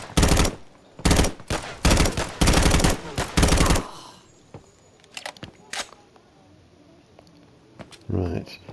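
Rapid automatic gunfire bursts in the shooter game BodyCam, several loud broadband volleys in quick succession, then scattered fainter shots and a final burst after a lull.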